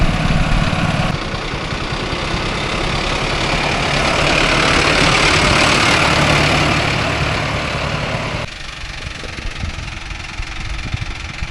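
Mahindra Arjun Novo 605 DI tractor engine running loud and close while working with a cutter attachment, a gritty knocking rumble that swells through the middle and then settles to a lower idle.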